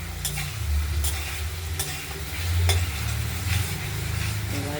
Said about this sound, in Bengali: আমরা ভালো করে কষিয়ে নেব, না হলে কাঁচা মশলার গন্ধটা পাওয়া যাবে।